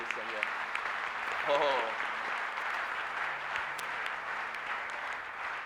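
A church congregation applauding, a sustained wash of clapping from many people heard at moderate distance, with a brief voice and some murmuring mixed in near the start.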